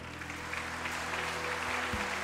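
A church congregation applauds steadily in praise of the Lord, a dense, continuous wash of clapping over a low hum, with no break across the short span.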